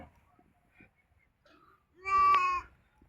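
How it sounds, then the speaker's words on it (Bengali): A single loud, drawn-out bleat from goats and sheep grazing rises clearly after faint scattered background noise, with quiet outdoor ambience before and after, at a riverbank near the Bangladesh–India border. "এখানে অনেক ছাগল ভেড়া ঘাস খাচ্ছে দেখা যাচ্ছে"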